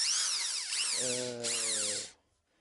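A Parkside cordless drill driver set to second speed in drilling mode whines at high pitch, drops briefly, then revs up again for a few seconds before stopping abruptly.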